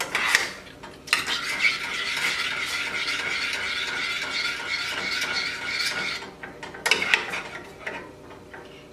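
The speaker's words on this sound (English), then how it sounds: "Now I'll take a spoon and mix it." A spoon stirs a pineapple sauce for ham in a pot, scraping and clinking steadily at close range for several seconds, then a short pause and a second burst of stirring.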